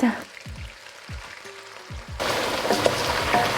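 Onions go into hot oil in a wok over medium-low heat. A few soft clatters come first, then a loud, steady sizzle of frying bursts in and carries on up close.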